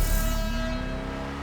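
Engine of a Declasse Walton L35 pickup in GTA Online revving up steadily as it accelerates on a test track, a continuous rising drone that stays loud and close throughout with no talk over it.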